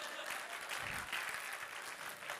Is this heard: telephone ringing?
no